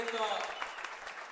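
An audience claps at a girls' basketball award ceremony, short steady applause with speech over it.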